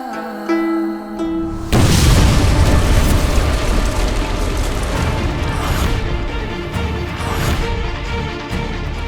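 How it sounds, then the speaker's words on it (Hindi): A loud explosive blast erupts after a brief quieter opening, a sudden broadband boom followed by a sustained rumbling roar with debris-like crackle that lingers for several seconds. "ये कैसा धमाका था? हम पर हमला तो नहीं हुआ?"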